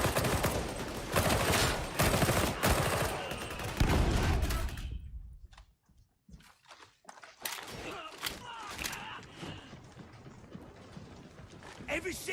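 A Warhammer 40k video game battle fills the scene with dense, rapid bursts of gunfire and clattering mechanical noise. After a brief quiet gap, scattered shots and sharp impacts follow, and game voices talk throughout.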